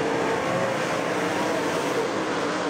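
A pack of race cars on the green-flag restart at Tri-State Speedway, their engines building into one loud, continuous roar.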